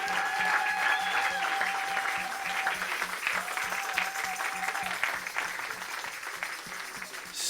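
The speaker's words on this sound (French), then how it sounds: "Quelqu'un donne une grande acclamation à Jésus-Christ de Nazareth." A congregation at a prayer and deliverance service applauds, with dense clapping carried along for several seconds, some cheering voices above it, and the sound slowly fading toward the end.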